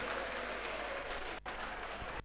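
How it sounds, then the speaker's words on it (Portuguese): Congregation clapping in a church service for Jesus, a brief dense wash of applause from many hands, moderately loud, with a couple of momentary dips and no clear talk. "Uma salva de palmas para o Senhor Jesus."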